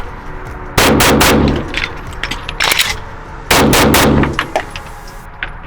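Zev OZ9 v2 Combat 9mm pistol firing at a range in two quick strings of sharp, loud shots with ringing echoes between them, close by and unaccompanied by talk.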